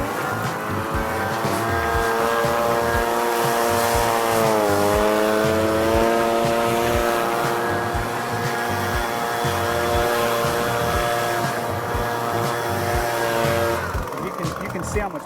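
A gas-powered Echo PB-250LN leaf blower runs steadily at high speed for the whole stretch, a loud droning whine that dips briefly and then holds, used outdoors for clearing gutters.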